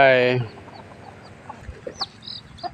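A rooster's loud call opens, then scattered soft clucks and chirps from chickens nearby over a quiet outdoor background at a temple in Chae Hom, Lampang, Thailand.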